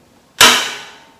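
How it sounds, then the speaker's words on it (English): A rubber mallet strikes the open end of a wrench to break loose a head bolt on a rototiller engine: one close, sharp knock with a bright metallic ring that fades over a second. "we're gonna get a little bit of a persuader, the old rubber mallet, and I'll just be tapping on the open end head of the wrench right here"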